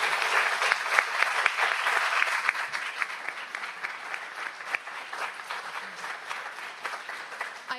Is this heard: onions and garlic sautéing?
no